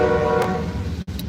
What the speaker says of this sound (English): So we don't get drowned out by the CSX train.